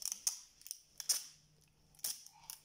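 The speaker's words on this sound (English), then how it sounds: "Maybe I should cut it with scissors" Scissors snipping through tape while a child does a paper art project, several sharp close cuts in uneven bursts separated by quiet pauses, with no talk.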